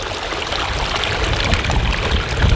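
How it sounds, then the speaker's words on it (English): Water rushing steadily along a quarter-mile ditch freshly cleared of branches and leaves, a loud, close, continuous wash with no voices. "Water's flowing great now."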